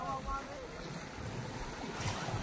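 Waves and wind on open sea as a small fishing boat pulls away, a steady wash of surf and wind noise on the microphone with a faint engine drone low underneath.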